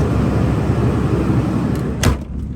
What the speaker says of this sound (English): I'll go ahead and close the door